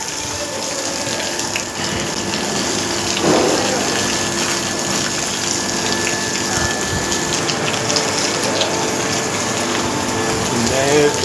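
Water gushes and sprays steadily inside an emptied Nandini dairy milk tanker as it is washed out at a Hyderabad dairy, a loud, continuous rushing wash with faint background voices.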